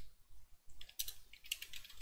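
Typing on an unfamiliar computer keyboard, a quiet, close run of light key clicks in short bursts against faint low background noise.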